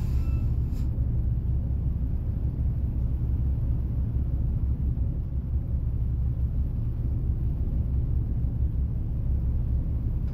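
Steady, heavy engine drone from a Mack Anthem truck sound pack in American Truck Simulator, a constant low rumble holding at even loudness throughout with no talk over it.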